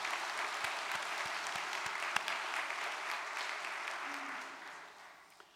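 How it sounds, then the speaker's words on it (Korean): An audience at a Unification Church ceremony breaks into sustained, dense applause that holds steady and then tapers off toward the end, with no speech over it. "승리하신 참 어머님께 다시 한번 뜨거운 박수를 올려주시기 바랍니다."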